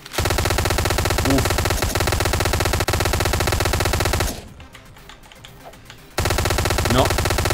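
Hotline Miami gunfire rattles in an extremely rapid, loud machine-gun stream, drops out for about two seconds of quieter ambience, then resumes, with a voice briefly heard underneath.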